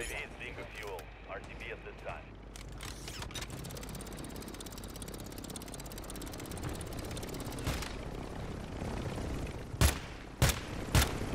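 A helicopter drones in the Call of Duty video game under a dense, loud mix of gunfire and bursts, with sharp loud cracks near the end and talk over it throughout.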